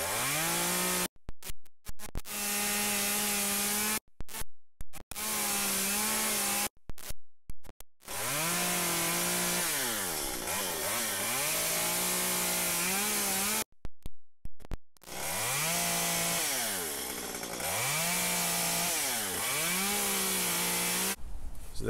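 A chainsaw roars loud and close while making repeated cuts into wood to carve a small bear, its engine pitch rising and falling through the cuts, with several brief stops and restarts.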